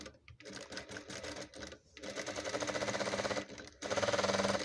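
A sewing machine stitches a seam on a velvet house galabiya, a steady fast whirring rattle running close and loud in bursts with brief pauses between runs, with no talk.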